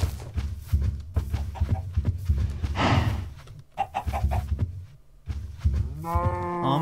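Cows moo in a farming video game; several loud, close lowing calls repeat over a steady rhythmic thump, with a break of quiet before the mooing resumes.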